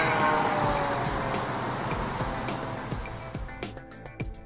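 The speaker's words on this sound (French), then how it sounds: "Lorsque la voiture se rapproche de nous, on entend une note aiguë. Et lorsqu'elle s'éloigne, une note plus grave." A car passes close by with a loud, rushing roar that gradually fades as it moves away, its tone shifting as it recedes.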